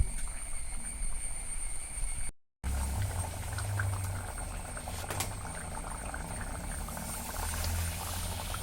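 Taro stem theeyal curry simmering and thickening in a pot, a low steady bubbling hiss that runs on evenly with one brief silent gap.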